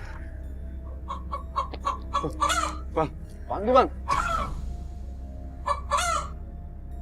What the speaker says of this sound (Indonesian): Suara ayam.